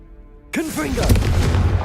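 A Confringo blasting spell from Hogwarts Legacy bursts in after a quiet start with a sudden loud boom, its whooshing, swooping tones trailing into a sustained rumble with voices faintly beneath.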